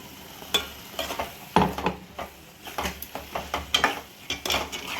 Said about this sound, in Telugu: ఇప్పుడు ఇందులో గ్రైండ్ చేసుకున్న టమాటా ప్యూరీని వేసేసుకోవాలి